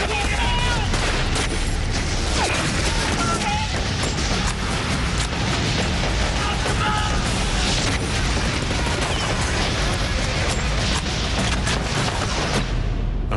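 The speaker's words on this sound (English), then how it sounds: "His machine gun is the last one still firing from his group of bunkers" Machine gun and rifle fire at the Atlantic Wall bunkers during a beach assault, a dense, loud, nonstop crackle of gunfire and blasts filling the whole stretch, with no talking.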